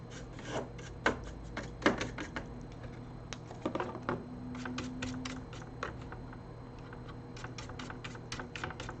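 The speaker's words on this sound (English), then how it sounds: "Now I'm gonna give it a nice wipe to remove as much dust as we can." A cloth wipes dust from a Packard Bell EasyNote TS11HR laptop board in quick, uneven bursts of soft rubbing and scraping, close up, with no talking.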